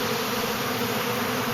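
Honey bees swarming over a sugar syrup feed bucket in an apiary, producing a dense continuous buzzing hum that is close and steady, with no voices.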